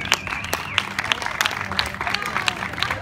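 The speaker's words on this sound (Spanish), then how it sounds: "Un aplauso, por favor." A theme park crowd at a PortAventura World Halloween 2016 show breaks into scattered clapping and cheering, with sharp individual claps over a busy background of crowd noise and chatter.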